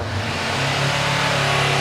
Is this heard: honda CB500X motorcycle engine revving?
yes